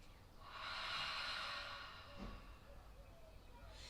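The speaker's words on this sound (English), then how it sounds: "the final sound is the sound you would make if you were fogging your bathroom mirror" A single slow open-mouthed exhale, like fogging a bathroom mirror, comes as a soft, breathy hiss close by, rising and then fading over about two seconds with a faint low hum behind it.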